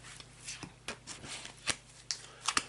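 Playing cards shuffled face down by hand during a mediumship reading, a run of soft riffling rustles with sharp snapping clicks, close and alone over a faint steady hum.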